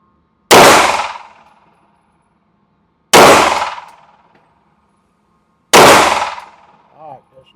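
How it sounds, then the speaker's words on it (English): Three loud, evenly spaced pistol shots from a Springfield Echelon ring out at an outdoor range, each followed by the metallic ring of steel targets. A brief faint clang follows the last shot. "we're going to do 3 rounds on each target, starting on the top left."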